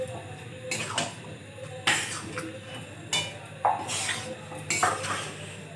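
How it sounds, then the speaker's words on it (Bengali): A spoon scrapes and clanks against a pot as spice is mixed into mutton ghugni, in several sharp bursts over a faint sizzle, with no talking. "এখন শেষ মুহূর্তে এই মশলাটা দিয়ে দিব, দিয়ে ভালো করে মিশিয়ে নেব"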